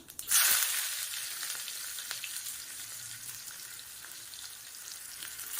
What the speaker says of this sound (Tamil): தாளிக்கிறதுக்கு கடுகு கொஞ்சம், 2 சின்ன வெங்காயம் கட் பண்ணி வச்சுருக்குங்க, அதை போட்டுக்கலாம்.